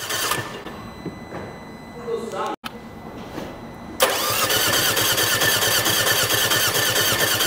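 A Mercedes A-Class engine is cranked over during a compression test. A quieter stretch of workshop noise comes first, then a steady, loud, rhythmic cranking churn starts abruptly and continues without letup.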